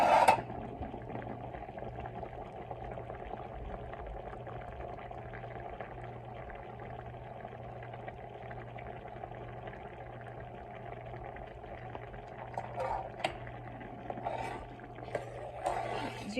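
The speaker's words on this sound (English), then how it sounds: "this instant rice is cooking up real fast" A pot of instant rice boiling in water on a stove, a low steady bubbling simmer with a constant hum beneath it and a few louder stirring or clinking sounds near the end.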